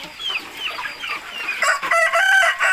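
Chickens cluck and chatter steadily during light evening rain, with a rooster crowing loudly toward the end over a soft hiss of background noise.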